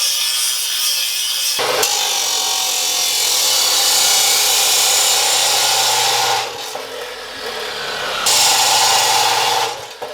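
A power tool cuts through metal for a homemade heavy-duty roof rack, giving a loud, harsh, continuous grinding whine in two long passes separated by a brief pause, close to the microphone.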